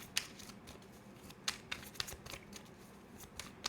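Quiet riffling and flicking of tarot cards, with soft irregular snaps and shuffles spaced through the stretch, close and faint.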